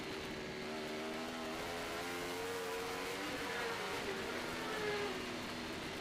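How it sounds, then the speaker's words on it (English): Racing motorcycles, including a KTM, accelerate on a road-racing track at an AFM Formula Pacific round, giving a steady, loud engine roar with rising and shifting pitch throughout. "A lot of bobbling there as these bikes are trying to keep that power level"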